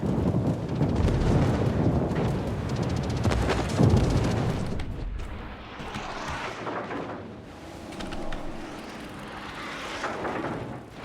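Bombs and artillery explosions in a multiplayer naval-air battle game at Midway, a dense rumbling barrage of booms with aircraft engine drone, loud and continuous, fading briefly before the rumble returns.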